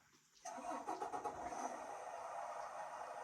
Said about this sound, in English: I'll start the engine.